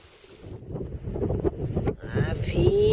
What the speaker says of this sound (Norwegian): Det blåser godt, heldigvis